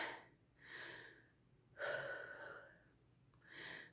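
A woman is out of breath, taking heavy gasping breaths in and out in a slow uneven rhythm, close and quiet.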